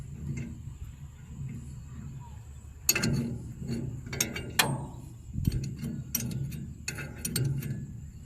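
A 21 spanner loosens a nut on a cement mixer during a sprocket bearing replacement, giving a few separate close metallic clicks and clanks with scraping in between, over a low steady background hum.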